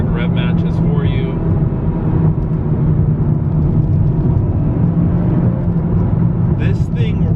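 A 2019 Honda Civic Type R in Sonic Grey Pearl downshifts to third with automatic rev matching. Its engine drones loud and close from inside the cabin, with a rising blip near the end.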